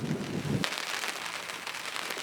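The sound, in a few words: rain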